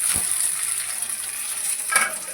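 Onions frying in a pan for a goat meat curry, giving a steady close sizzle with soft stirring scrapes, no voices.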